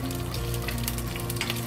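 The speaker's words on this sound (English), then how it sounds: "start frying. The oil is, when start frying, we add all the scallion into it" Chopped scallions fry in hot oil with a steady, dense sizzle and crackle that holds at an even level throughout, close and loud, with no talking.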